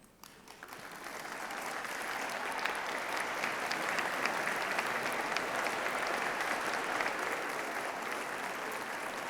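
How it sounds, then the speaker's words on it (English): Sustained applause from a graduation ceremony audience for a biosciences class, with many hands clapping steadily. It rises quickly after a brief quiet start and holds at an even, dense level for the remainder, with no speech over it. "give them a round of applause to say thank you"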